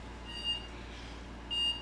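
Phone alarm giving two short, thin high beeps about a second apart, faint against a quiet room hum.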